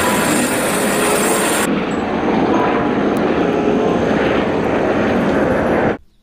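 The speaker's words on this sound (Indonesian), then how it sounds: "ada helikopter." A helicopter flies overhead with a loud, steady rotor and engine roar that holds on, then cuts off abruptly near the end.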